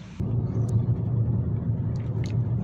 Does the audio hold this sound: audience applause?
no